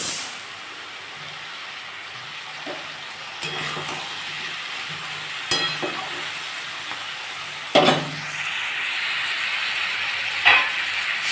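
Five kinds of vegetables with raw tomato frying in a pan for a Bengali vegetarian curry give a steady sizzling hiss, broken by a few sharp clinks of stirring, with no talking.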